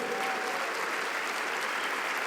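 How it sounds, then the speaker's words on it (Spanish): Church congregation applauding loudly at a sermon, a dense steady wash of many hands clapping that fills the whole stretch, close and even in level, with a faint tonal voice line briefly beneath it early on. "Vamos, denle un aplauso fuerte."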